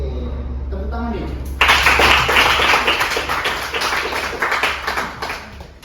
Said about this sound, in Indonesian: Oke, tepuk tangan nih.